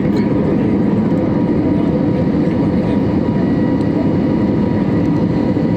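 A steady, loud engine roar drones on without a break, the continuous rumble of an airplane in flight over Renigunta, with no voices.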